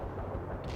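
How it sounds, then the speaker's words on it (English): A mortar strike landing in the real-time strategy game World in Conflict: Soviet Assault, a dense low rumbling blast that stays heavy through its brief span, with no talk. "What if I just mortar strike? That might kill it."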